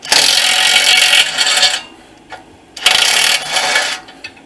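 A ratchet spins the catalytic converter bolts off underneath a 2012 Honda Pilot in two loud bursts of rapid clicking, separated by a short pause.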